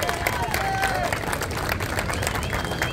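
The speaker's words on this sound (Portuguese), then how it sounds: "Uma salva de palmas para a peruana Kaleia Gervasi." Audience applauding at a surf competition award ceremony at the Saquarema surf festival, a dense steady clapping crowd with some cheering, continuous and fairly loud throughout, with a voice talking over it.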